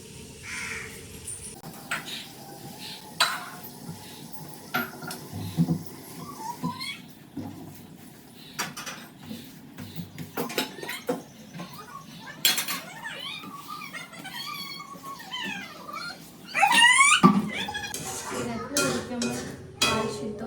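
Dishes and utensils clatter while someone cleans a home kitchen, with scattered clinks and knocks of metal and crockery, a louder burst of clattering near the end, and brief voices and bird-like chirps in the background.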